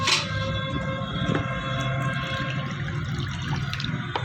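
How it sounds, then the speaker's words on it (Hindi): Clean water pouring into a metal pot being cleaned at home, a steady splashing gush with a sharp start, running continuously at close range with no talk. "अब इसमें अच्छा पानी डालूँगा"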